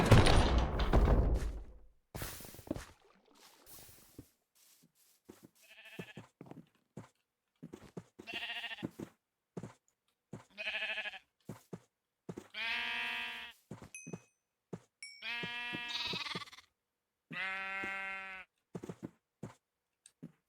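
Sheep in Minecraft bleat repeatedly in short, evenly spaced calls that grow louder and more harmonic toward the end, with a burst of clattering noise at the start and small clicks between the bleats.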